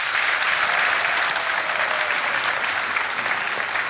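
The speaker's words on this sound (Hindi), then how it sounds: "तालियां बज जाए इनके लिए।" Studio audience on a televised quiz show applauds a contestant, a dense, steady wash of clapping that stays loud and even throughout with no voices over it.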